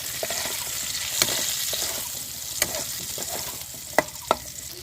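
Chopped onion sizzling steadily in a pan after ginger and garlic have been fried, for a dish of prawn do-peyaja, with a few sharp scraping stirs cutting through the close, continuous hiss.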